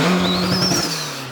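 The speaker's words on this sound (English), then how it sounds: "Do you want me to rev it? I'll rev it." A 2.0 i-VTEC Honda Civic Type R mapped to 428 bhp revs loudly and close by, holding a steady high engine note with a rising then falling whine over it, no talking.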